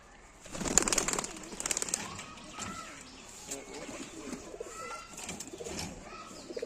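Giribaz pigeons coo in a loft, low murmuring calls repeating throughout, with bursts of wing and movement noise early on and a voice speaking over them.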